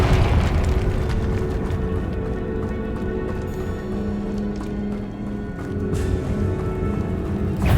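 Low, rumbling blast from the Confringo curse in the video game Hogwarts Legacy, a heavy, sustained roar filling the low end, with a few fainter pops and crackles near the end.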